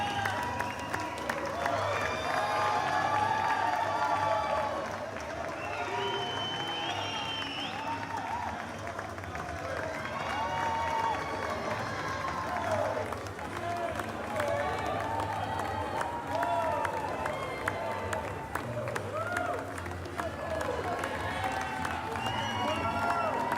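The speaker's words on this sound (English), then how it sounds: "Players and coaches for WSU were greeted by a sea of people cheering, clapping, and high-fiving" A big crowd cheering, clapping and whooping for WSU players and coaches as they leave the gym for the airport, a continuous roar with scattered shouts and whistles over its full length.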